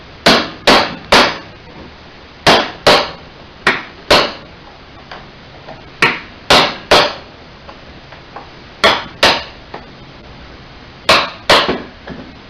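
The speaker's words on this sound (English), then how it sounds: "Use a smaller chisel on the end." Sharp metallic hammer strikes drive a small chisel to break a solder seal on a dental X-ray unit, landing in quick clusters of two to four loud close blows with short pauses between.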